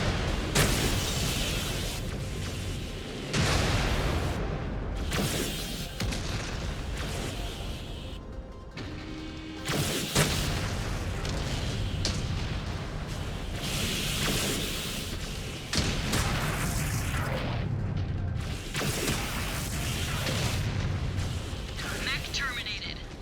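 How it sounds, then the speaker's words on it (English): Explosions in the mech combat video game MechWarrior 5: Clans, repeated heavy booming blasts and crackling bursts over a dense battle din, with short pauses between loud barrages across the stretch. "At least their explosions hurt their own guys."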